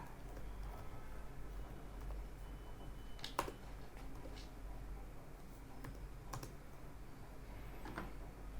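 Typing on a computer keyboard while writing C# code, with soft, scattered key clicks and a few sharper taps over a steady low background hum, close and fairly quiet.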